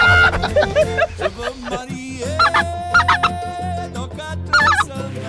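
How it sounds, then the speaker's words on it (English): Snow geese call repeatedly in loud, nasal honks and cackles during a goose hunt, with overlapping calls and a low hum running underneath. "What is this? What is it? Snow goose."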